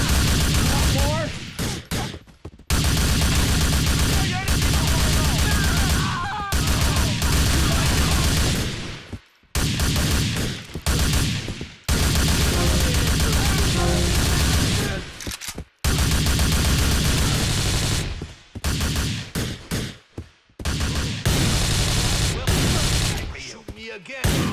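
Dense, loud gunfire bursts from a GTA video game fill nearly the whole stretch, rapid automatic volleys broken by a few short pauses, with shouted character voices mixed in.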